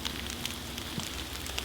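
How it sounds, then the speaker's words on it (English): Steady rain falls through misty woodland, a soft, continuous close hiss of drops with no one talking. "And this rain is not letting up. I don't know if you can hear it coming down."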